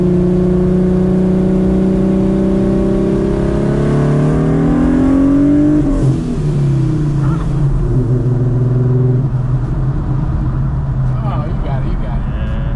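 A boosted Ford Mustang with a manual gearbox accelerates hard, its engine note climbing steadily in pitch, then dropping off at a gear change before pulling again. Loud and close from inside the car, with voices talking over it at times.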